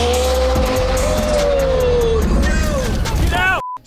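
A McLaren sports car starts up and its engine revs hard for a few seconds, a loud close rising whine with tire-like squeal tones before cutting off abruptly.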